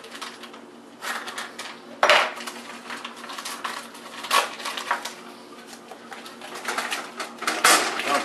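A corned beef point cut handled into a pan, with clanks and knocks of metal cookware and utensils at uneven intervals, plus birds cooing faintly in the background and no voices.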